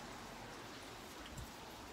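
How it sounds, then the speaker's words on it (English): Light rain falls outdoors in California, a faint, even patter of drops with a soft hiss and no voices. "It's a little rainy right now though."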